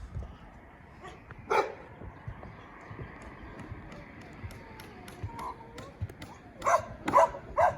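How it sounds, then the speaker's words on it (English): A dog barks in short bursts, at first once and then several times in a cluster near the end, moderately close, over a quiet outdoor background at a mobile home trailer re-roofing job. "Dog's gonna start talking."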